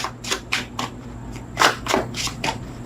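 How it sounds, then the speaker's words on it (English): A deck of tarot cards is shuffled by hand close up, a quick series of riffling bursts with soft pauses between them. "3 outcome cards off the top of the deck after this shuffle."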